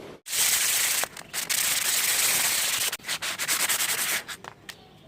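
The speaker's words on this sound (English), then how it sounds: "trying my best to make the surface of the stadium smooth enough using this sandpaper." Sandpaper rubbed by hand over the surface of a homemade Beyblade stadium makes a close, continuous dry scratching, broken by a few short pauses and quick strokes near the end.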